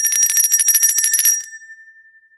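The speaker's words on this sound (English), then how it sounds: "After I stop shaking the bell and the gong is no longer coming into contact with the body of the bell, there's still a ringing that reverberates" A hand bell shaken rapidly for about a second and a half, bright clattering rings, then a single clear tone left to reverberate and fade, loud and close with no talk.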